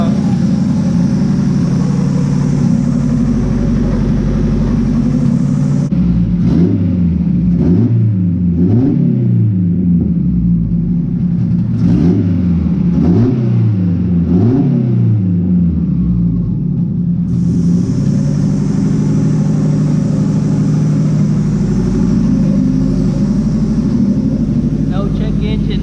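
A hatchback's engine runs close by with a deep steady rumble, rising and falling through several smooth revs in the middle before settling back to idle, with a voice talking over it.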